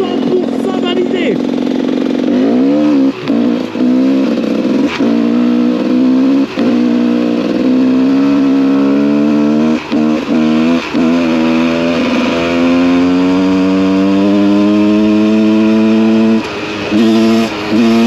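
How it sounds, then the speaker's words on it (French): A GasGas 300 dirt bike engine runs steadily while riding along small grassy trails, loud and close, with repeated throttle blips and a sustained rising drone over the whole stretch. "La moto en plus elle marche vraiment bien"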